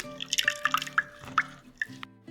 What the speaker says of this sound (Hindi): अच्छी तरह से हाथ से दबा दबा के इसमें से सारा इसका मिल्क जो है वो निकाल लेंगे।